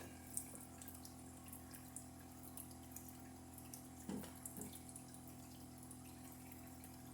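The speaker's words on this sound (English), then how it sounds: "the pump's running, the water's running" Water runs steadily from a tap driven by a pump, with a faint mechanical hum beneath it, quiet and continuous, with a couple of small knocks.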